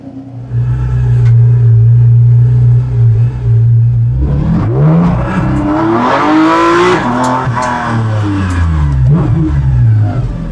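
A 500-horsepower Porsche 718 Cayman GT4 RS engine drones loudly at steady speed, then surges with rising revs and repeated gear-change sweeps, staying close and powerful.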